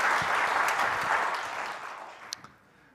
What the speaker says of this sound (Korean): 힘내세요 라는 마음에 박수 한번 합시다.